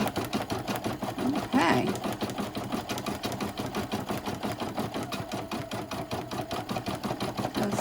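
An embroidery sewing machine stitches in the hoop with a fast, steady mechanical chatter of needle strokes, close and continuous, while a voice briefly speaks over it.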